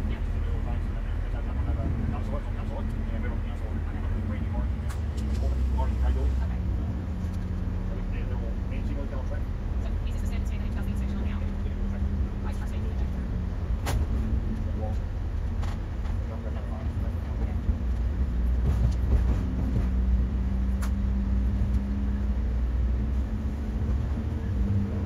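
A track inspection vehicle reverses along a train line in sped-up footage, giving a steady low rumble of wheels and motor on rails, with faint clicks and a high whine running throughout.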